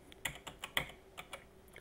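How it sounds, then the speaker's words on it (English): Typing on a computer keyboard, about nine crisp, close keystrokes in an uneven rhythm, heard alone in a quiet room. "We will type in EXEC space"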